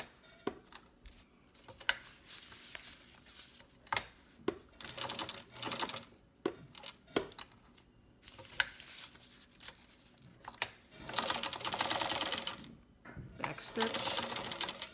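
A sewing machine stitches in short runs around a piece of fabric, giving bursts of rapid mechanical whirring separated by pauses and sharp clicks as the needle is set down and the work pivoted, with a person talking in between.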